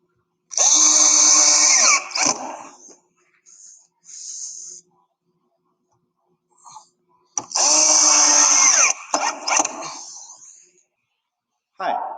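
A power drill drives screws into a modern Adirondack chair, with two long loud whirring bursts a few seconds apart, each followed by shorter trailing buzzes and brief clicks.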